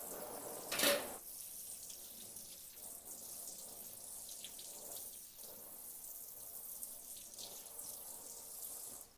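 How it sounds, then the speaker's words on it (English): A cutting board rinsed under a running kitchen tap, a steady hiss of flowing water with a louder splash near the start, then soft sloshing and scrubbing, with no talk. "Wash my cutting board."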